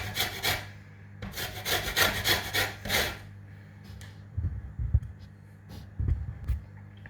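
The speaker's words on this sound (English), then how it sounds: "I'm going to take the zest off of this lemon" A lemon is zested against a metal zester in several quick rasping strokes at the start, close and crisp, followed by quieter scattered taps and handling sounds.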